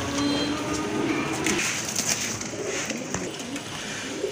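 Magpie pigeons in a red colour variety, kept among pigeons for sale, coo in steady low murmurs against busy, loud market or railway-side background noise.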